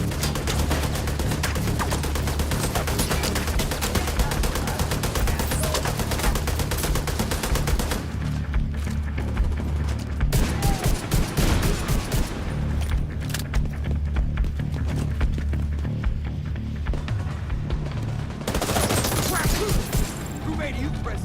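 Sustained machine-gun fire from an enemy gunner in The Division 2 video game, a dense, loud fusillade of rapid shots with brief pauses and bursts resuming, lasting over twenty seconds amid other battle noise.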